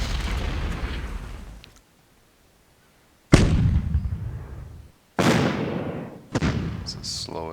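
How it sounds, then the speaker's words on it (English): Mortars firing in the WWII strategy game Decisive Campaigns: Barbarossa: four heavy, booming blasts, each trailing off in a long rumbling decay, with a short quiet gap after the first and the last ones coming close together. "It's the slowest mortar firing, etc. ever."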